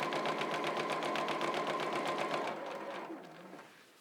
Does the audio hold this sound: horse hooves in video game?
no